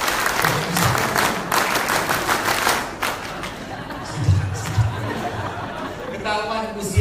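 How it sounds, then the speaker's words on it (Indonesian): An audience at an Indonesian talk on business and preaching claps the rhythmic Pramuka scout clap, sharp quick hand strikes in a pattern that fade into crowd chatter, chuckles and a speaking voice. "Tepuk satu, tepuk dua, tepuk pramuka."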